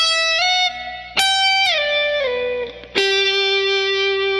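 A slide guitar plays a long phrase from a song's solo, with a few bright plucked notes gliding down in pitch, each sustaining and sliding into the next, ending on a long held tone, loud and alone.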